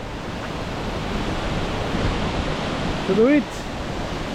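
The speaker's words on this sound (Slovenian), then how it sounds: "Slap Barman, tik ob slovenski meji, v dolini Rezije." Barman waterfall in the Resia valley, right by the Slovenian border, pours in a steady, loud broadband rush that fills the whole stretch, with a brief spoken word near the end.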